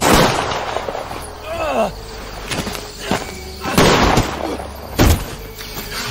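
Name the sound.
gunshots in a film scene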